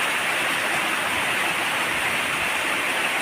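A steady, dense wash of pouring pre-monsoon rain in Maharashtra, India, fills the whole stretch, even and constant like water rushing down.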